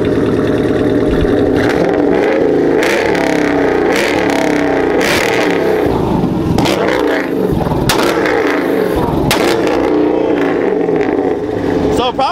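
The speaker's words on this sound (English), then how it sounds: "go start your car. Show him what's up." A car engine starts and revs repeatedly, loud and close, with rising and falling roars and popping bursts over a rumbling idle, while people talk nearby.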